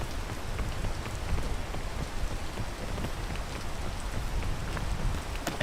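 Steady, dense rainfall pattering on surfaces outdoors during a climbing ascent, loud and continuous with no voices.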